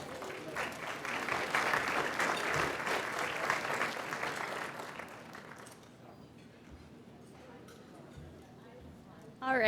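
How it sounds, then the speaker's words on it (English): Audience applause welcoming a speaker at a hosted talk, a dense burst of clapping that fades out over several seconds, followed by quiet room sound and a voice starting. "Let's give her a big round of applause."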